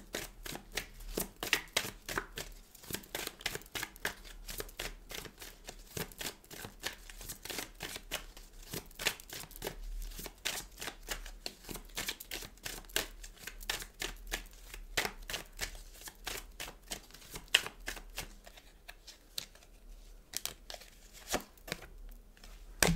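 Tarot cards shuffled continuously for a long stretch, rapid dense riffling flicks up close at a quiet, steady level.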